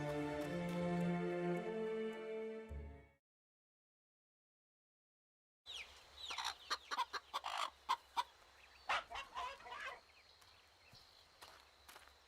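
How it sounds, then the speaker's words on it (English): Chickens clucking in the video game Fable Anniversary, a run of short irregular clucks and scratchy footsteps after a sustained musical chord and a few seconds of silence, fairly close and moderately loud. "Chicken chaser. Do you chase chickens?"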